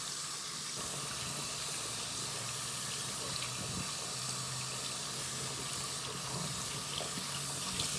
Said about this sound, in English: So I'm going to go ahead and wash this off.